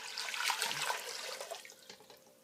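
Two cups of water are poured into a pot for homemade cranberry sauce, making a soft, steady splashing stream that gradually tapers off, close and quiet with no talking.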